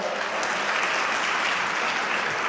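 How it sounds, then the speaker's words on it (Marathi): Steady, dense applause from a large audience at a political rally in Solapur, sustained and even throughout with no pauses or voices standing out. "या संतांच्या भूमीमध्ये सगळ्यांनी एकदा जोरदार पुन्हा साहेबांच्यासाठी टाळ्या वाजवल्या पाहिजेत"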